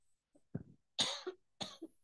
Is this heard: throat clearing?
yes